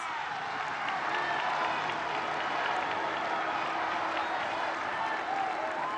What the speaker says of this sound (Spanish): quien también pidió una ovación y que se pusiera de pie los asistentes